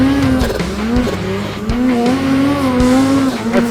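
Snowmobile engines at Silent Pass near Golden, British Columbia scream at high revs during turbo wheelies, a loud wavering whine that rises and dips as the sled lifts and lands.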